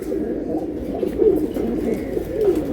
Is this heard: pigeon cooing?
yes